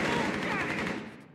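Sustained automatic gunfire in Rainbow Six Siege, a dense rapid burst of shots loud and close for over a second before cutting off.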